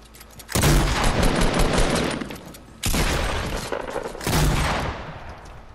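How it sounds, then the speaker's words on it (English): Gunfire from rival squads fighting on the far side of a hill in Fortnite: three loud, dense volleys of rapid shots, each lasting one to two seconds, separated by brief lulls. "do know there's another squad shooting each other fucking on the other side of the fucking hill"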